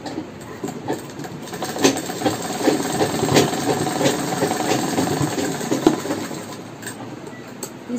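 A sewing machine runs steadily while stitching a latkan blouse, giving a continuous mechanical whir with small rhythmic ticks and a few light clicks, close and fairly loud, with no talking.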